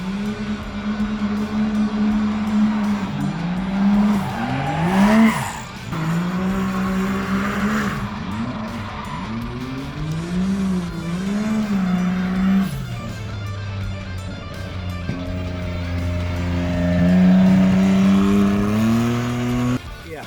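Tommy Clark's heavily modified Can-Am race machine roars up close, its engine revving hard and climbing and dropping in pitch through repeated throttle blips across a loud, continuous run.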